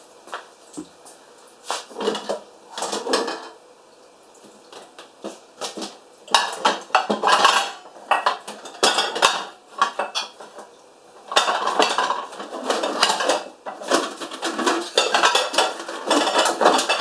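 Pots, dishes and cutlery clatter and clank in repeated bursts of rummaging, loud and close, with brief pauses between handfuls in a home kitchen.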